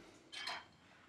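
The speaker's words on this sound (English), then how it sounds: "And there's a cutlery drawer here." A cutlery drawer opening in the galley of a 57-foot 2004 narrowboat, a single brief rattle and clink of metal utensils, faint and close, in an otherwise quiet interior.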